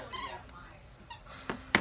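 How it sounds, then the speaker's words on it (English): A dog squeaking a squeaky toy indoors, several short sharp squeaks spaced irregularly, the last one loudest, over a faint television murmur in the background. "the normal Bella has to squeak her toy every time I'm talking"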